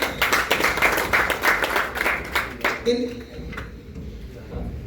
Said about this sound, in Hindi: पवैया जी के लिए बहुत जोरदार तालियां।